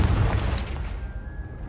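The Confringo spell in Hogwarts Legacy lands as a loud, deep explosive boom right up front, then its rumble fades over about a second with a faint ringing tone left behind.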